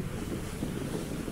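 Strong wind roars into the microphone on a sunny boat trip on Lake Lucerne, a dense, rumbling rush, constant and loud for a brief moment.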